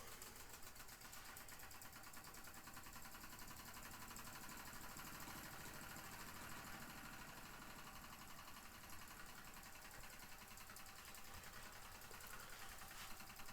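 An Empire Metal Ware No. 62 toy steam engine runs quietly, a steady fast mechanical ticking and whirring that holds an even level throughout with no talk.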